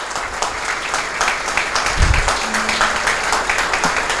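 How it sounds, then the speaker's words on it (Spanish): Audience applause for the artist Agustín Guerrero at a political gathering, a steady, dense crowd clapping that fills the whole stretch at close range, with a brief low thump partway through. "yo les pido un aplauso porque es un genio"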